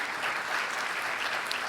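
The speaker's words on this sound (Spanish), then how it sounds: "Si le va a aplaudir, apláudele al Señor." A church congregation applauds during a sermon, a steady dense wash of clapping with no pauses.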